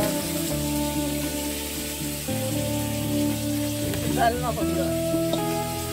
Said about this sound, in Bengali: আবার দেওয়া হচ্ছে মাছ ভাজা।